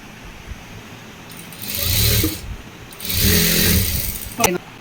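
A sewing machine stitches a blouse in two short motor runs separated by a pause. Someone talks quietly in the background and a small click comes at the end.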